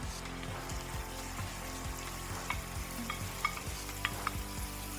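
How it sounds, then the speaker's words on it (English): A Korean cheese corn mixture sautéing in hot melted butter gives a steady close sizzle, with soft rhythmic scrapes and stirring taps over about five seconds. "We're going to saute this mixture for about 2 to 3 minutes"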